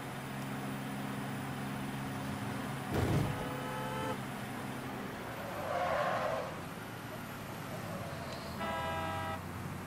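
A truck drives in the Mafia III video game on PC, its engine droning steadily with horn-like toots and a brief skid, while people talk over the gameplay.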